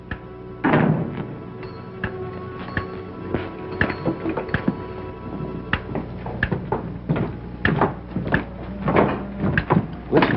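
A door closing in a Western film scene, with scattered wooden knocks, thunks and creaks over a long stretch of muffled room sound, no speech.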